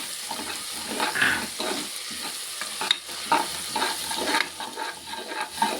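Ginger-garlic paste and crushed green chilli fry in a pan for a beef curry, with a soft, steady sizzle broken by repeated spatula scrapes and stirs, close and moderately loud.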